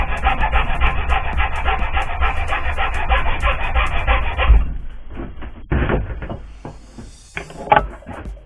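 A metal file rasps back and forth across wood in a dense, continuous scraping for about four and a half seconds, then stops, leaving a few quieter knocks and handling sounds close by.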